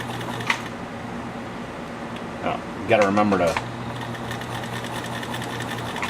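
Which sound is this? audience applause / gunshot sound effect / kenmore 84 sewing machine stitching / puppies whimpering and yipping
kenmore 84 sewing machine stitching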